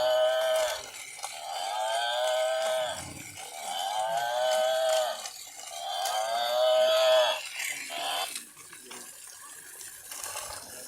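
Buffalo moo in three long drawn-out calls by the edge of a pond, loud and close, with faint water sounds and a little talk underneath.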